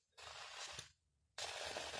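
Garden sprinkler spray strikes trees in two dense, hissing bursts separated by a brief pause, close and fairly loud, with no talking.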